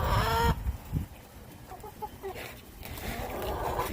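Backyard chickens in bitter winter cold at minus eight degrees in Pennsylvania, giving soft scattered clucks and short calls at close range over a low, noisy background.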